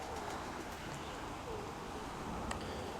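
Pigeons cooing outdoors as the flock comes in after a long flight, soft low coos faint against steady background noise, with no voices.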